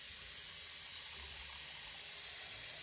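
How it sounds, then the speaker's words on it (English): Faucet water running steadily into a kitchen sink, a soft continuous hiss with no pauses and no voices. "So we're going to fill this up with some sink, just some faucet water."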